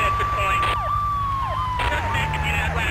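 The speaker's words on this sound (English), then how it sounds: "Turn the sirens off." A police car siren in Grand Theft Auto 3 wails loud and steady, its tone sweeping up and down in repeated cycles over low in-game engine rumble.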